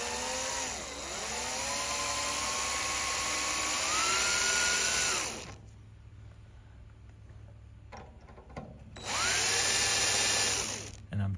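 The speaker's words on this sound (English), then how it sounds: "I'm gonna start out with a number 40 drill bit again to drill a pilot hole in the center of the rivet." A drill with a number 40 bit bores a pilot hole into the center of an aircraft rivet, a high whine in two bursts of several seconds each, pitch dipping and climbing, close and loud with a quiet gap between.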